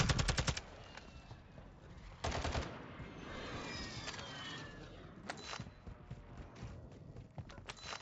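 An ally's rapid automatic gunfire in a Warzone Resurgence match on PC, sharp repeated bursts at the start, in the middle and at the end, with quieter game ambience and scattered shots between them.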